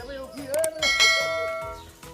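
A bright notification bell chimes a few quick ringing dings that leave a shimmering, sustained tone fading out. It stands alone and fairly loud, with no talking.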